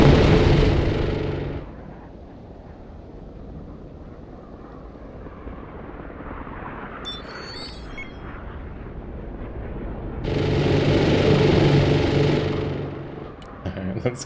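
Aircraft cannon strafing runs in the Broken Arrow war game: loud broadband roaring bursts at the start and again near the end, with a lower rumbling stretch and scattered crackles between.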